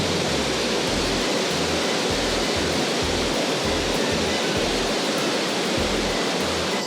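An artificial waterfall in a concrete urban park in Fort Worth, Texas, gives a steady, loud broadband rush of falling water, close and continuous, with low rumbling thumps underneath and no voices.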